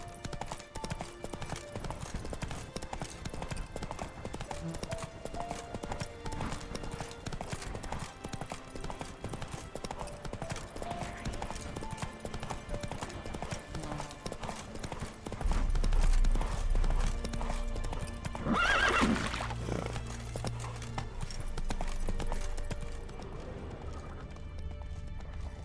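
Roach the horse galloping in The Witcher 3: Wild Hunt, steady rapid hoofbeats running through the whole stretch, with a heavier thud and rumble partway through before the gallop carries on.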